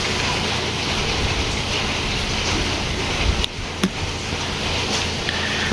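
Heavy rain falls without pause in wet monsoon weather, a loud, dense, steady hiss of downpour filling the whole scene, with a couple of brief knocks partway through.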